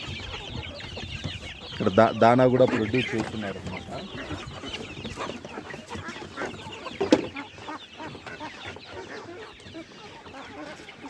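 Native country chickens cluck on a farm, with a louder burst of clucking early on and scattered bird calls in the background, while someone talks over them.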